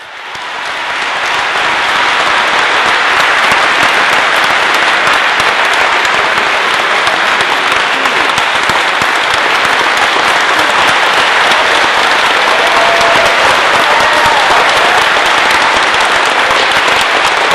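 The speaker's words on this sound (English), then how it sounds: "Big round of applause." Sustained audience applause fills a school auditorium during an NFL football presentation at Pennsauken High School, a dense, loud, steady roar of clapping that rises in the first seconds and holds evenly throughout.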